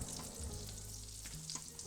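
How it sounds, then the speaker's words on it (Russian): Butter and a spoonful of vegetable oil sizzle steadily in a frying pan, a continuous close hiss with a low hum underneath and no talking. "Маленький кусочек сливочного масла положите на сковородку и добавьте столовую ложку растительного масла."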